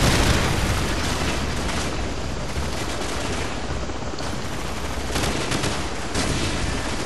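Call of Duty Modern Warfare Reflex gameplay with continuous dense gunfire and booming blasts, loud and unbroken for about seven seconds with no talk.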